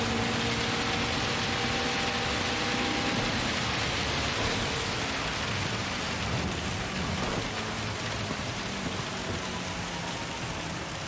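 Steady, dense rain hissing on the track during a Gran Turismo 7 race in wet weather with a Honda DC2, a continuous wash of noise with a faint engine drone underneath and no talking.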